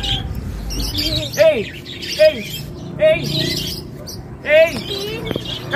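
Several short bird chirps and whistled calls ring out in bursts, with a few harsher squawks, over a low background murmur that suggests voices nearby.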